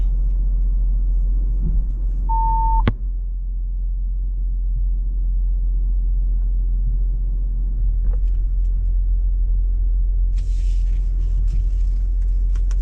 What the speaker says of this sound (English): So I'm going to drive a little bit so you can see what it looks like.